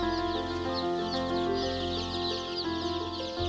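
Native Korean chicks being raised on a small farm by novice farmers, clucking and peeping steadily and fairly close, with a continuous layered chorus of calls and no talk.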